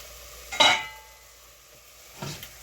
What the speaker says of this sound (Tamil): இப்ப எல்லா பொருளும் வதங்கட்டும்